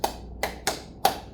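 Hands clap out the Korean 'Dae-han-min-guk' cheer rhythm: four sharp, close claps in an uneven pattern over about a second and a half, each a crisp smack with a quick decay, with no talking.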